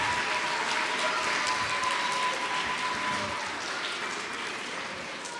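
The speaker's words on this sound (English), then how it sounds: "And a round of applause again for your teacher." A room full of people at a Christmas chapel service claps steadily, dense applause that holds for several seconds and slowly thins toward the end.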